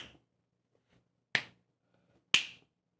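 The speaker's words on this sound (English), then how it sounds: "how loud is a finger snap, you might wonder?" A single finger snap rings out sharp and close, then a second identical snap follows about a second later, each a crisp isolated crack in an otherwise quiet room.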